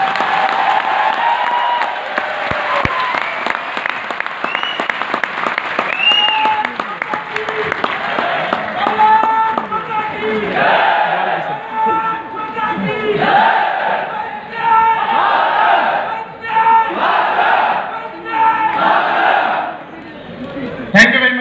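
A large audience at a motivational network-marketing speech claps and cheers, with loud rhythmic bursts of shouting and clapping that come in repeated waves over about twenty seconds.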